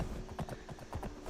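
Horse hooves clip-clop in a quick steady rhythm, moderately close, with no talking, from a video game.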